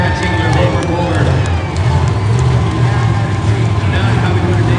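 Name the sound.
crowd applause at Monster Jam stadium show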